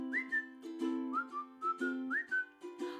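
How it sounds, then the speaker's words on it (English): Melodic human whistling of a cheerful tune, clear and close, sung phrase by phrase alongside steady held accompaniment tones, with no talking. "Just purse your lips and whistle, that's the thing."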